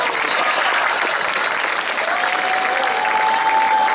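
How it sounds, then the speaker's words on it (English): A crowd at a varsity sports awards night applauds the girls' volleyball team, with steady loud clapping from many hands filling the room and a faint crowd murmur underneath. "One more round of applause for our volleyball team."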